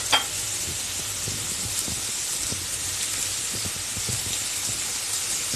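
Crushed ginger garlic paste frying in hot oil, a steady close sizzle and hiss with a few soft stirring scrapes, no voices.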